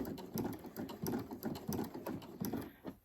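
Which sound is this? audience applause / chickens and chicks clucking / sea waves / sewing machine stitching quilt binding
sewing machine stitching quilt binding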